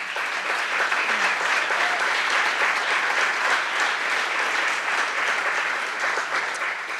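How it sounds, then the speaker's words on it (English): A panel forum audience applauds food producers and farmers in the room: sustained, even clapping from many hands, dense and steady throughout with no voices on top. "I think we should just give everybody who's a food producer here a round of applause for coming out today."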